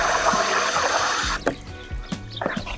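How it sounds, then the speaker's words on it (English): Water runs steadily into buckets in a backyard garden, a broad continuous rush that cuts off partway, followed by lighter splashing and trickling sounds nearby. "filming me filling up water buckets"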